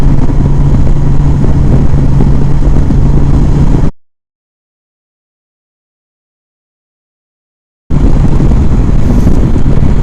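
Honda Goldwing motorcycle on the road, a steady engine drone with heavy wind rush, cut to silence for about four seconds midway before the riding noise resumes.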